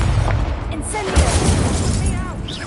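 Incendio fire spell cast repeatedly in the Hogwarts Legacy video game, a loud fiery burst with popping blasts over a steady game soundscape, with a voice shouting over it.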